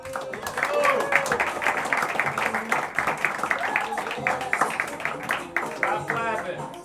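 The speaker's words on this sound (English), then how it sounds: "Stop clapping." A comedy club crowd applauds and claps for a comedian taking the mic, a continuous patter of clapping and cheering heard beneath a talking voice over the PA.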